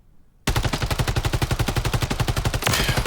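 Rapid automatic gunfire from a weapon in the video game MW3, loud and close, a steady burst of evenly spaced shots running almost continuously after a brief quiet start.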